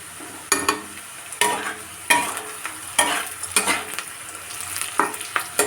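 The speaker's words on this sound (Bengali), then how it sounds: "তাওয়াটা সম্পূর্ণ সর্ষে তেলে করছি" Frying on a tawa in mustard oil: a loud, bright sizzle broken by repeated sharp spatula scrapes at roughly one-second intervals, close and busy, with no voices.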